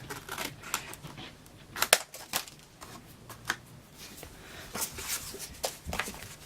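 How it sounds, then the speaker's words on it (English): A favorite paper trimmer slices through paper in a series of short, sharp cutting swipes and clicks, irregular and close, with quiet shuffling of paper between strokes and no talk. "This is my favorite of all my paper trimmers."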